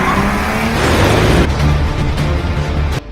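A car makes a U-turn during a police surveillance tail, its engine loud and close with a rising rev and faint tire noise, alone with no talk, cutting off abruptly at the end.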